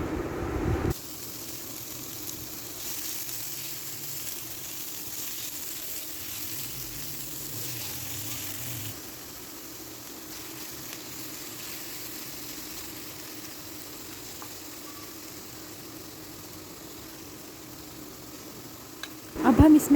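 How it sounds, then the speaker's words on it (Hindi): Onions fry in two to three tablespoons of oil with whole spices, giving a steady, even sizzle that carries on for a long stretch. It drops slightly partway through and ends with a couple of louder clatters. "अब हम इसमें डालेंगे प्याज और इसे लाइट ब्राउन करेंगे।"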